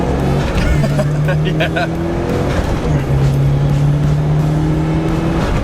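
A tuned Mitsubishi Evo 8 is driven hard, its engine droning loud and steady from inside the car with long sustained pulls and a brief shift dip, while a voice speaks briefly.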